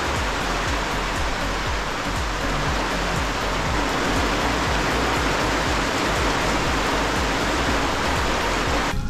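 Heavy rain pouring outdoors during repair of a boat's outrigger, a dense, even hiss that stays loud and constant from start to finish.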